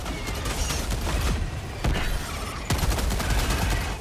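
A deployed sentry turret in Helldivers 2 fires rapid bursts of automatic gunfire, loud and dense, with heavier impacts and mechanical clanks punctuating the steady stream of shots.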